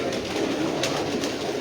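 Breeder pigeons on a rooftop in Sialkot, a steady low murmuring coo blending into a continuous bed of ambient noise, moderately close and without voices.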